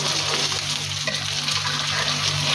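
Lachha paratha frying in ghee on a pan, a steady close sizzle and crackle holding level throughout with no voices.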